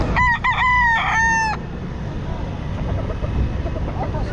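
A White Kelso gamecock crows loudly and close by in a busy outdoor setting, with one long crow over a steady background rumble of traffic and crowd noise.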